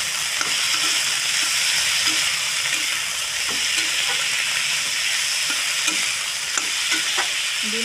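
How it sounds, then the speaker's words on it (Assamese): Food is stirred and tossed in a hot frying pan for a vegetarian Assamese rice-plate dish, with salt just added; a constant sizzle sits under scattered scraping clicks of the spatula, close up with no speech. "মিলাই লওঁ ধুনীয়াকৈ।"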